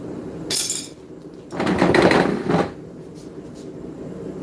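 A cross peen hammer forging a blade gives a few metallic strikes and scraping clatter in a shop, two clustered bursts with a lighter tap after, fairly close.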